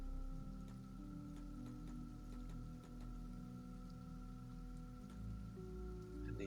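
Steady rain pattering down as a story sound effect for falling acid rain, a constant soft hiss beneath sustained droning musical tones throughout.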